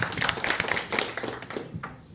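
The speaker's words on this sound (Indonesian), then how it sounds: "Tepuk tangan untuk kita semua Bapak Ibu." Short burst of hand clapping from a small audience in a training-session room, fairly quiet and uneven, a few sharp claps trailing off within about two seconds.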